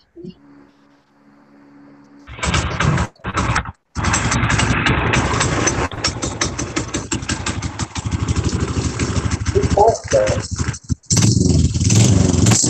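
A 1969 Harley-Davidson Sportster motorcycle starts after a short quiet lead-in and settles into a loud, close, steady idle with a brief dip in the engine note; voices talk over it.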